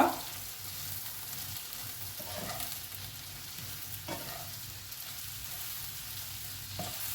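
Lady finger and peanut masala frying in a pan on low flame, a steady soft sizzle with a few stirring scrapes and knocks, close and without speech.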